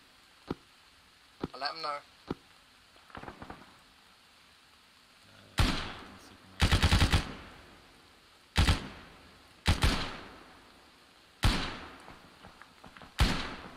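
Gunfire in a town in Arma 3 rings out as a series of loud, spaced single shots with echoing tails, mixed with scattered faint pops and radio-style voice chatter.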